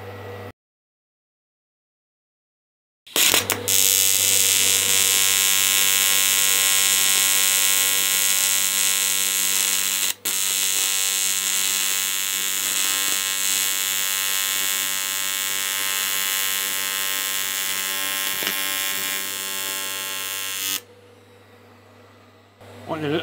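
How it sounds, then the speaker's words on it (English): AC TIG welding on an aluminium box section inside corner, a steady loud electric buzz with a strong low hum that runs for about eighteen seconds after a short silence, then drops to a quieter tone near the end. "I am trying to weld around the camera now"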